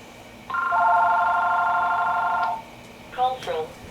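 A telephone rings once with a steady electronic tone lasting about two seconds over a low hum. A short chirpy ring or tone follows, with no speech.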